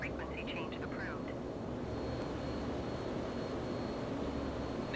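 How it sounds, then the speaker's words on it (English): A Navy plane in a flight simulator game takes off from a Navy airfield, its engine a steady, loud roar throughout, with a brief voice-like blip near the start. "this is a Navy plane, and we're taking off from a Navy airfield"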